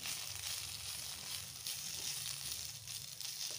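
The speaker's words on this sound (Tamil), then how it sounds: "தேங்காய் கலர் சேஞ்ச் ஆகுது வேண்டாம், 1-2 நிமிஷம் ஃப்ரை பண்ணிக்கலாம்" Grated coconut with coriander frying in a pan for coconut masala rice, a soft continuous sizzle and crackle, fairly quiet and steady with no talking.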